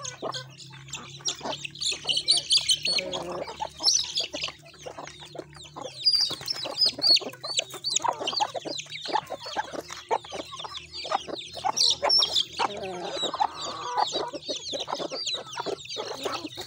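Chickens and roosters on a farm cluck and squawk continuously at close range, a busy overlapping flock with sharp calls over a steady background hum.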